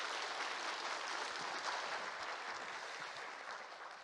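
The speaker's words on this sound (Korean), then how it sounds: "우리 박수 치겠습니다." An indoor church audience claps together, a dense, steady wash of applause at moderate distance that fades slightly toward the end.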